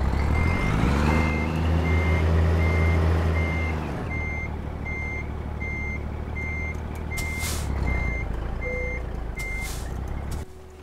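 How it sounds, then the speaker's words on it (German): Truck in a driving simulator game reversing, with a steady series of evenly spaced reversing beeps over a loud engine rumble that eases off partway through, plus brief hissing bursts near the end. "Wir fahren trotzdem kurz vor und rückwärts rein."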